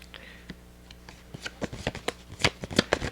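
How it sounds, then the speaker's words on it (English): Minor arcana tarot cards shuffled by hand up close, a run of quick crisp riffles and snaps that grow denser and louder toward the end, with faint low breathy noise beneath. "Okay, let me shuffle these cards."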